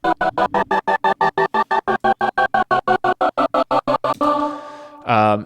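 A sustained synth chord chopped by a trance gate into even, rapid on-off pulses, about five per second, loud and alone, then the gate releases into a held tone and a brief new chord at the end.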